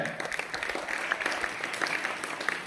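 Clapping from an audience of students at a school commemoration event in a hall, applauding for the girls, with a dense, fairly distant patter of many hands that continues throughout, a little uneven in strength.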